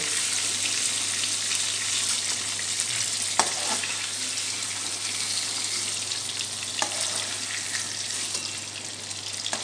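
Paneer sizzles steadily in hot oil in a pan in a home kitchen, a dense, even frying hiss that runs throughout with a couple of faint utensil clicks.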